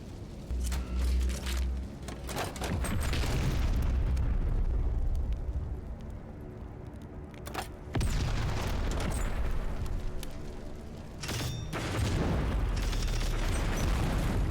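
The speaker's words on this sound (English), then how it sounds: "Toss another Hellfire down" Hellfire missile strikes in the Heart of the Machine video game land as several heavy booming explosions, each a sudden loud burst rolling into a long rumbling tail, spaced a few seconds apart.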